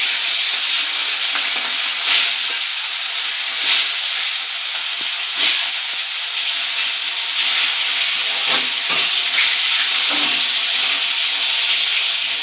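Katla fish frying in a pan for a doi katla dish, a steady close sizzle and hiss that runs the whole time, with a few louder spattering bursts spaced through it and no talk.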